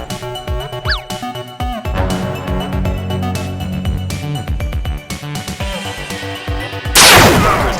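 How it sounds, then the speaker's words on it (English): Toy Nerf gun shots in a staged action film scene, heard as several sharp cracks and pops layered over a loud dramatic music score, with a burst of noisy blasts near the end. "The SWAT team raises their guns and shoots the robber dead."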